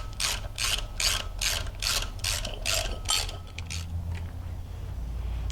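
A torque wrench ratchets while tightening a crank pulley bolt on an LSA supercharger pulley setup, giving a run of sharp, evenly spaced clicks over several strokes, close and clear, then fading into low shop hum.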